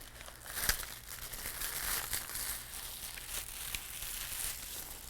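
Adhesive backing film peeled off intricate paper die cuts, giving a close, soft crinkling and tearing rustle that runs steadily with a few sharper crackles.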